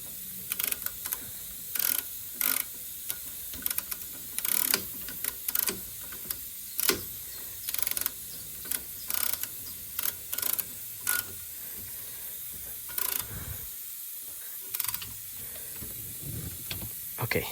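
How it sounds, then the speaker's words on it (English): A torque wrench tightens brake caliper bolts on a Lexus CT200h, giving repeated short ratcheting clicks in irregular bursts against a faint hissing background, with no talking over them. "I got my torque wrench here. I'm just tightening these to 35 Newton meters."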